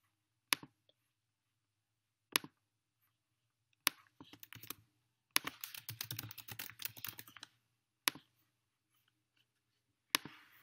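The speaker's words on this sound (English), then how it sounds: "And I'm sorry for the typing." A computer keyboard clicks quietly during a teacher's geometry review live stream: a few isolated key taps spaced seconds apart, then a dense burst of rapid typing, with no talking.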